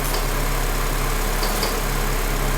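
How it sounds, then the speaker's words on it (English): A Honda Element engine idling with a steady, loud, dense hum while the air-conditioning compressor clutch is engaged, continuous and unchanging throughout. "So that's how you're going to check the compressor clutch coming on and off and the fan relays"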